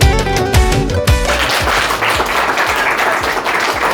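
Applause rises after birthday candles are blown out at a family party, with clapping first heard over music and then settling into a steady, crowded patter.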